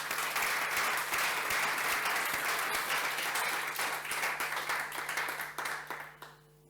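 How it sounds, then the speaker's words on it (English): Conference audience applauds presenters after technical talks, a full, even burst of clapping that holds for several seconds and then thins and fades out at the end over a faint electrical hum. "A round of applause for all of the presenters"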